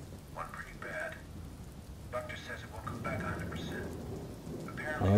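Steady rain falls in the video game Watch Dogs, a constant soft hiss under game dialogue and other voices talking throughout.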